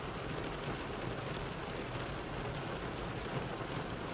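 Heavy rain pours down steadily outside a Maxima supermarket in Lithuania, a dense, constant hiss of downpour with no voices.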